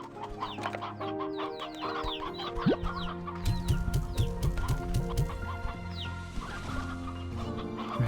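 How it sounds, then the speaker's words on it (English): Chickens and roosters in the video game Slime Rancher 2 cluck busily in a close flock, with a steady stream of overlapping calls and a clicking patter over continuous game music. "Grab a bunch of chickens."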